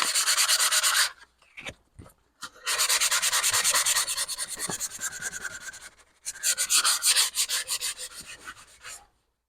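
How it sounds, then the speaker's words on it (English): Hand sanding of a wooden Shaker step stool with 320 grit sandpaper, long steady rubbing strokes in three close, loud bursts with brief pauses between. "I'll just give this a quick sand. This is, I think, 320 or something."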